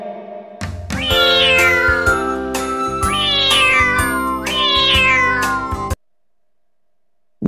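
A cat meows three times in a steady, evenly spaced row, bright and prominent, set over a looping children's rhyme backing with chimes, then cuts to silence.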